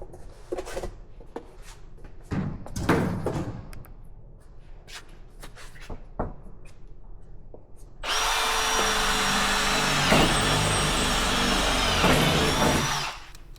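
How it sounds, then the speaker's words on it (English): A power drill grinds loudly and steadily for several seconds into a steel gun safe after scattered clicks and handling noises, close up. "we're going to see how long it takes me to drill it and pop it open"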